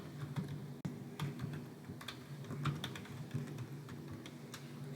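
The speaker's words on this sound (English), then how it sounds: "Type it in, hit enter, it sets the bookmark for you." Fingers tap steadily on a computer keyboard, a run of quiet close clicks at an uneven typing rhythm with no talking.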